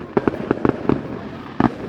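Fireworks going off outdoors near trees: a quick run of loud, sharp bangs and crackles in a cluster, then a short pause and one more burst, close and punchy.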